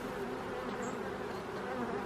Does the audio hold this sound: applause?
no